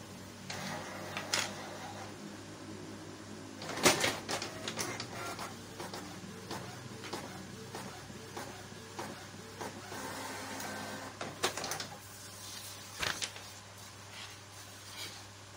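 An inkjet printer running a nozzle check print, with a low steady motor hum, repeated clicks and the sharp clacks of the print head carriage moving back and forth, heard alone and close.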